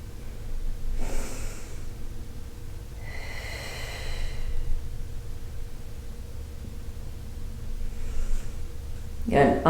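Slow breaths during a scoliosis yoga exercise: a few soft, airy exhales spaced several seconds apart over a low background rumble, ending in a short louder rustle, with no talk.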